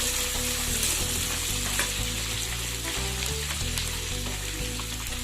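Onions fry in a pan for poha upma, sizzling steadily and loudly up close, with occasional scraping and stirring sounds over the constant crackle.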